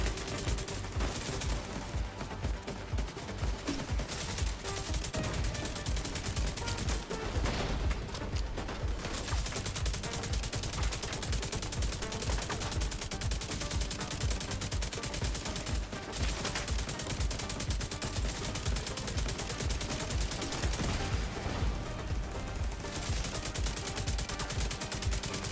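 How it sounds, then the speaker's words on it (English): Enemy gunfire in The Division 2, dense rapid bursts of automatic shots rattling nonstop for the whole stretch, loud and close with a few heavier volleys and no talking. "that guy's blind firing, shooting at me from that far away"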